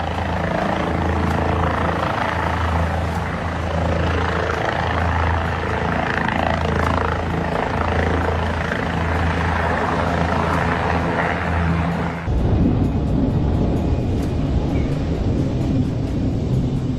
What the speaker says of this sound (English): a dramatic helicopter rescue operation by local police